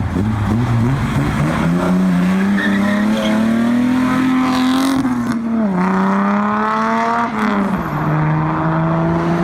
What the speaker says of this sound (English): It's a very cool sounding engine.